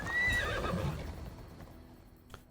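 A horse in Assassin's Creed Odyssey gives a loud, descending whinny that trails off over about a second, followed by a quieter tail and a faint clop near the end.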